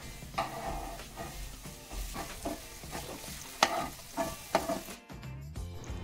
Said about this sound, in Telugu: ఇప్పుడు ఆనియన్స్ యాడ్ చేసుకుందాం. Onions get nice and soft.